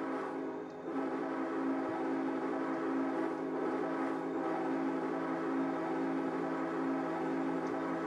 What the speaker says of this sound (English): as the train passes